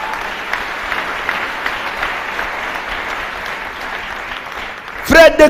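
Church congregation applauding during a sermon, a steady, loud wash of clapping that holds for several seconds before a voice cuts in near the end.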